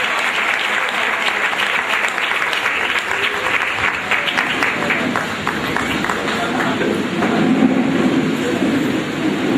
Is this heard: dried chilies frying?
no